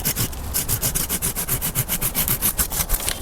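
A pruning saw cuts through a drooping low branch on a fruit tree, fast, steady back-and-forth strokes rasping close up and loud with no talk.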